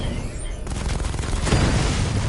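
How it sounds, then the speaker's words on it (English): Batmobile chain gun in Batman: Arkham Knight fires in a dense, continuous barrage of close, loud gunfire, with booming impacts layered over the rapid shots. "The chain gun's not powerful enough."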